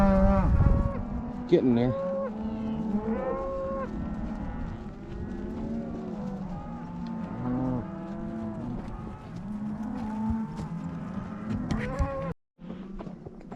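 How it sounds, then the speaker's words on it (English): Cattle on a farm mooing repeatedly, a cow in heat trailed by a bull calf and four breeding bulls, with loud close calls in overlapping drawn-out bellows and a brief spoken remark partway through. "This is what you call a hot cow."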